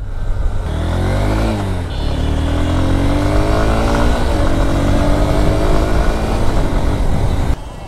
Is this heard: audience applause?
no